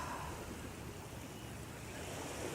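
Waves washing onto a beach make a steady, broad rush of surf with some wind across the microphone, continuous and fairly even throughout.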